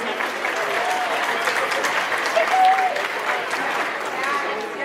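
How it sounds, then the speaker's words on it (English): Warm, sustained clapping from attendees at a student affairs professional development meeting fills the room steadily, with a voice briefly heard over it midway. "hand clap for being here"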